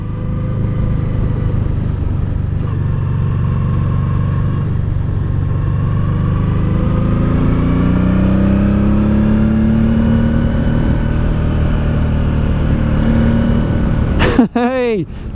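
A motorcycle engine drones steadily on the climb up the Grossglockner High Alpine Road, a loud, close, rough rumble with rising revs in the middle and a brief clatter near the end.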